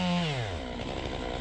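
An oversized chainsaw engine roars close by, its pitch sliding down, then settling into a rough, buzzing drone as it chews through firewood.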